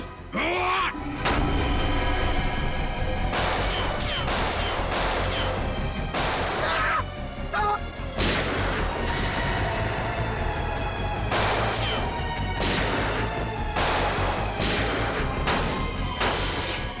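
Repeated loud gunshots and crashing bangs ring out over a dense, noisy background, arriving in irregular bursts throughout.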